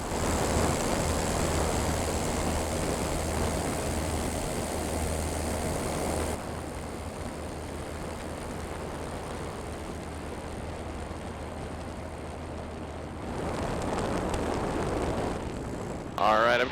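Super Patriot Cub light airplane engine droning steadily in flight on a rainy day, a continuous loud hum that eases after a few seconds and surges again toward the end, with a pilot talking over it.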